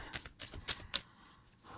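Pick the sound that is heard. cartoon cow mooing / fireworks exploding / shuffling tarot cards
shuffling tarot cards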